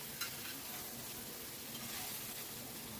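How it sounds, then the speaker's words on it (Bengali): Food is stirred in a pan over a medium-to-high gas flame, with a continuous soft sizzle and faint stirring scrapes throughout at low volume. "গ্যাসের ফ্লেমটা মিডিয়াম টু হাইতে রেখেছি আর সব কিছু খুব ভালো করে মিশিয়ে নিচ্ছি।"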